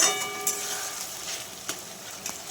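Spice paste fries in oil over a medium flame, giving a soft, steady sizzle with a few brief stirring scrapes. The sound stays fairly quiet and close, and no voices are heard.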